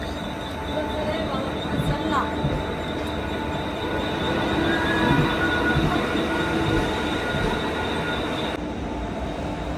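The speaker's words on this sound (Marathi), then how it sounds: "ट्रेन सुटली सुद्धा आपली कर्जत स्टेशनवरून" A local train pulling out of Karjat station, heard from inside a carriage as a steady loud rumble with wheel noise and faint squeals, continuous throughout with some background murmur.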